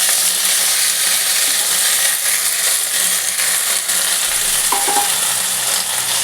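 Washed mixed vegetables hit hot oil in a pan for a Bengali chorchori and sizzle loudly and steadily, with faint stirring scrapes and no talk.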